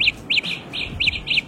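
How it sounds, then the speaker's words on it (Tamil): Wireless earbuds play their find-my-earbuds locator sound: six short, high, bird-like chirps in an uneven rhythm. They are close and clear over faint background noise, with no speech. "அந்த ஆப் சொன்னல, அதுல போய் ஃபைண்ட் மை இயர்பட்ஸ் அப்படின்னு கொடுத்தீங்கன்னா இதுல ஒரு சவுண்ட் வரும்"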